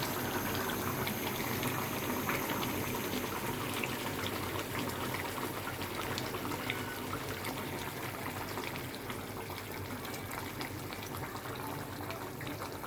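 A potato and eggplant curry with hilsa fish simmering in a little water in a pot, a steady, soft bubbling and hiss that continues evenly throughout with no voices.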